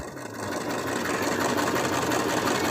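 A sewing machine stitches a wedge-shaped fabric piece for a snivey in one continuous, close run of steady mechanical whirring that holds at an even level.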